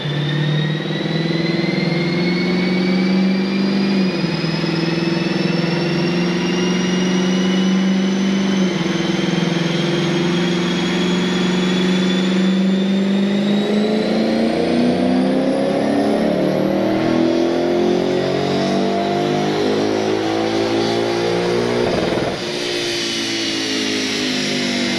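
A Lexus GS F V8 engine runs on a dyno, loud and close, holding a steady drone that climbs smoothly in pitch through a long rev before dropping off near the end.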